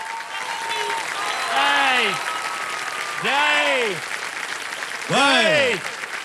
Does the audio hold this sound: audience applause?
yes